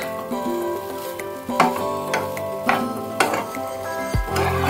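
Poha (flattened rice pulao) sizzles steadily in a pan with ghee, a continuous close frying hiss broken by a few soft clinks and stirring scrapes.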